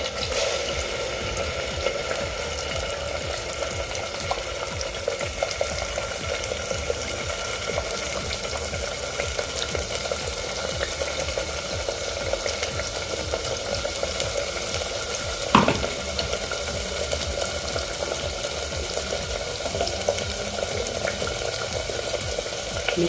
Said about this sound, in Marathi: कांदा आणि नारळाचं आपण जे वाटण केलं होतं ते आपण यामध्ये घालूया